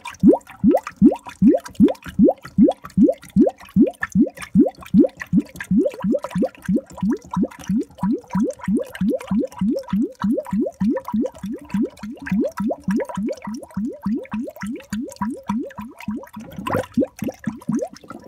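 RODI water glugs into an empty one-gallon jug, a long, steady run of rhythmic gurgling pulses close to the microphone that continues for the whole stretch without speech.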